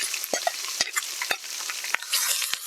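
Onions being stirred into hot oil with spices for a chicken gravy, a steady crackling sizzle with sharp, irregular scrapes and knocks of the spoon against the pan, close and without talk.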